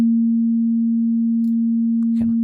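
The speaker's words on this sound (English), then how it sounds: "And we have a sine wave, right?" A synthesized sine wave tone in Ableton Live holds one steady, pure pitch for about two seconds, with faint clicks and a brief noisy burst near the end.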